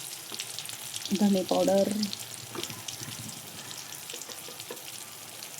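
Spice powders frying in oil in a home kitchen pan while being stirred, a soft continuous sizzle with light scraping, and a brief spoken word early on.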